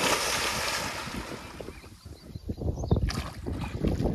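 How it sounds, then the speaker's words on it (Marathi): Someone dives into a farm swimming pool: a loud rushing wash of water fades, then sharper splashes and sloshing follow close by in the second half. "यानं मारली डुबकी आता पाण्यात"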